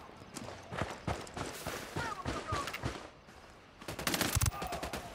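Automatic gunfire from squadmates in the shooter Ghost Recon Wildlands: scattered bursts of shots at mid distance, ending in a louder, denser volley.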